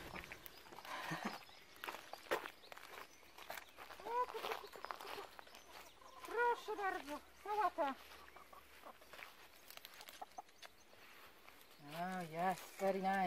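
Chickens cluck and chirp intermittently while eating lettuce and radish leaves, with soft rustling and footsteps nearby; a person talks quietly in the background.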